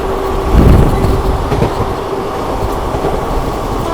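The New Delhi–Bhubaneswar Rajdhani Express approaching and rushing past, a loud, heavy rumble of rolling wheels with rhythmic clatter and a faint steady tone, swelling briefly then holding a continuous roar.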